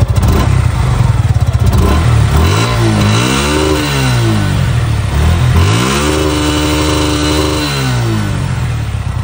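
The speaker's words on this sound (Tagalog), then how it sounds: "Tignan mo naman ang stock na muffler, Forma, Sound check." A Suzuki Gixxer SF 155 motorcycle, a 155cc bike on its stock muffler, idles close by and then revs twice in rising and falling sweeps before settling back to a loud idle.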